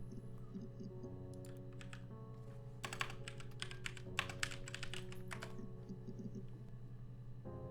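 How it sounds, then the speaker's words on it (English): Rapid clicking keystrokes on a computer keyboard in bursts, typing over a steady low hum and game music in the background, no voices. "I know what I'm typing."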